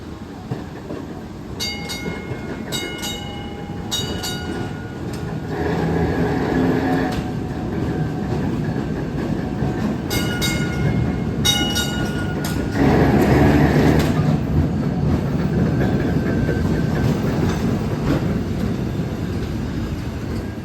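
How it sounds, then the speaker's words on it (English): An open-air tram from Rio de Janeiro rolls steadily along the rails at a trolley museum with a constant rumble, sharp metallic clicks over the track joints, and a brief squeal of wheels partway through. "take a ride on the tram from Rio de Janeiro"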